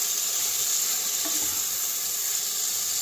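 Seasoned meat sizzles steadily in a pan at a snowy overnight camp inside a converted 6x10 cargo trailer, a constant close hiss with a brief stir partway through and no talking.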